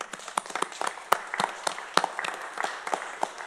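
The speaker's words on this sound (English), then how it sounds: "That's an applause line." Scattered applause from a small crowd at a county commissioners court meeting, sparse individual claps in an irregular patter, fairly quiet and without speech.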